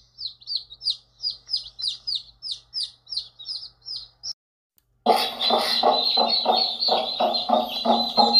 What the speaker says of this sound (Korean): 엄마 닭이 병아리들을 불러 모아요.